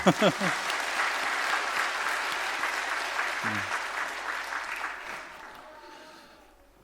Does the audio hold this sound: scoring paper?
no